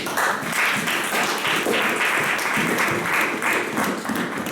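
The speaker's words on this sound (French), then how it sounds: "Acclamons très fort pour le Seigneur." Church congregation clapping loudly and steadily in praise, a dense sustained wash of many hands throughout with no voices on top.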